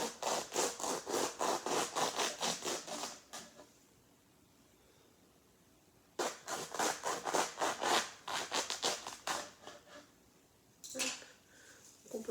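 Dried, very light luffa gourd being sawn into slices, with rhythmic rasping strokes in two long bursts separated by a quiet pause and a brief third burst at the end, close and fairly loud, with no talking.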